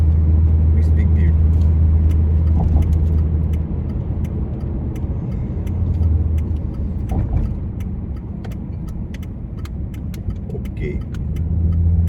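A 2004 Ford Panther platform car accelerates hard with the pedal floored, its engine a steady loud low rumble heard from inside the cabin, with a brief spoken word over it.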